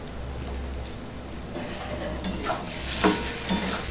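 Pasta frying and being stirred in a pan on a gas stove, with a steady soft sizzle and a few scraping stirs near the end, fairly quiet.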